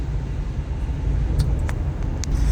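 Steady low rumble of engine and road noise from inside a moving car, constant and fairly loud, with a few faint ticks and rattles near the end.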